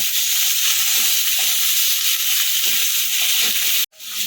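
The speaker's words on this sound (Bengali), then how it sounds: "আর দেবো লবণ একটু ভালো করে ভেজে নেব" Water spinach (kolmi shak) seasoned with salt fries in a pan with a loud, continuous sizzling hiss that stops abruptly near the end, then resumes faintly.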